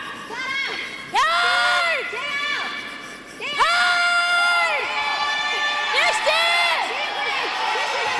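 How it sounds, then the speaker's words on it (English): An arena crowd cheers and shouts at a women's handball Olympic qualification match, loud and sustained with rising whoops and bursts of excitement swelling through the hall, no talk over it. "the crowd are urging it on, urging"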